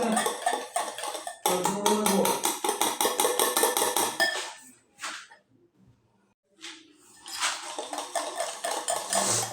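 Eggs beaten in a bowl for a two-egg cake batter, the utensil clinking against the bowl in quick, steady strokes. Two close, busy bursts of whisking are split by a short quiet pause.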